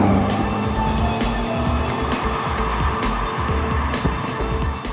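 A BMW 320d diesel engine pulls hard while driving, its note rising steadily under load with a continuous drone and tire roar, heard from inside the car without speech.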